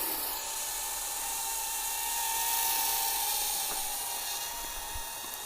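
Small remote-controlled aircraft motors whine steadily with a slight flutter, a high buzzing drone that holds at an even level with a gentle swell in the middle and no talk over it.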